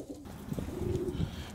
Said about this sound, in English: All the birds ran outside.